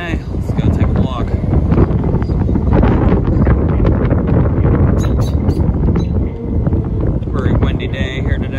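Strong wind buffets the microphone in heavy, rumbling gusts outside an abandoned Burger King in Erie, Pennsylvania, with rustling and brief higher sounds breaking through.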